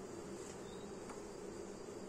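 Honey bees buzzing around a hive during a honey harvest: a steady, close, continuous drone of many insects, with no voices.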